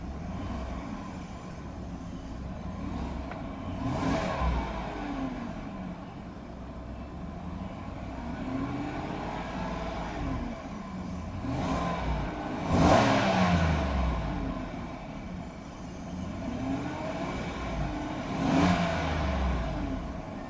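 A 2016 Chevrolet Suburban LTZ idles quietly, its engine a low steady drone with passing swells of noise from traffic going by outside.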